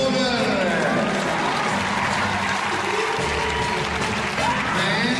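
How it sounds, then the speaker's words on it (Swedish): Sustained audience applause fills an indoor arena at the Stockholm International Horse Show, a steady, dense wash of clapping from a large crowd that holds at an even loudness throughout. "Applåder!"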